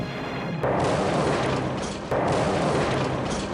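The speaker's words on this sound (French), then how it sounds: "À 1h23 44 secondes, c'est l'explosion." The Chernobyl nuclear reactor explodes: two heavy booms land about a second and a half apart, each followed by a dense, sustained roaring rumble.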